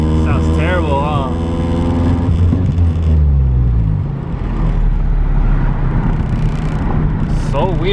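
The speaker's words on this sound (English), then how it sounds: "Let me go to fourth gear. Sounds terrible, huh?" A car engine labours in fourth gear, a low droning rumble that holds steady throughout, with someone talking loudly over it for most of the stretch.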